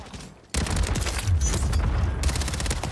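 Rapid sustained FJX Horus submachine gun fire in a first-person shooter match, a loud dense burst of automatic shots starting abruptly after a brief quieter lead-in and continuing to the end.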